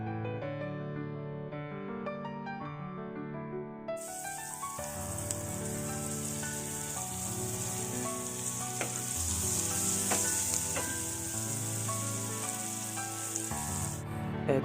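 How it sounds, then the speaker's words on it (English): Cubed onion frying in hot oil in a pan, a steady close crackling sizzle that lasts throughout beneath quiet background music. "And keep frying for a few seconds."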